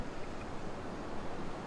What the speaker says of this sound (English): All of that water through that pipe.